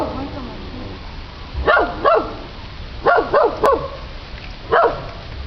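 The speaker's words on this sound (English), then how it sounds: "We're disturbing this dog over here." A dog disturbed by people walking past Kamansi plants barks in short bursts, about six sharp woofs in irregular pairs, fairly close, with quiet talk in the background.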